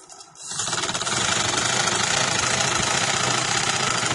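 A sewing machine runs steadily while stitching the waistband of a white trouser, starting after a brief pause and continuing as a loud, even mechanical whir with fine rapid ticking, no voices.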